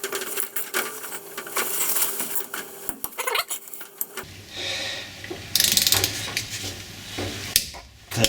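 A ratchet clicks rapidly while torquing the brake caliper bolts on a Toyota Verso, close and distinct, in several short runs that are followed by louder metallic clatter.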